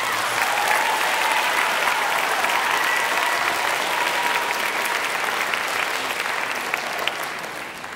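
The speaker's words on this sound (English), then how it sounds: "So let's give Ms. Chow a big round of applause." A large crowd at a grade 8 school band spring concert applauds, loud dense clapping holding steady for several seconds before tapering off slightly at the end.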